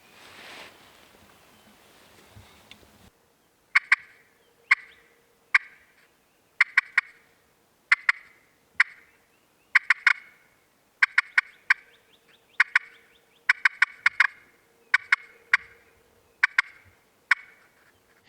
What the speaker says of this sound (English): there are turkeys gobbling